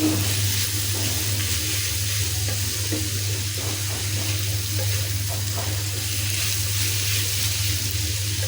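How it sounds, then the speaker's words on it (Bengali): Water poured into a frying pan holding lightly fried marinated chicken for chicken rolls gives a steady, close rushing hiss over a low constant hum, with no talk. "আমি একটু পানি এখানে দিব"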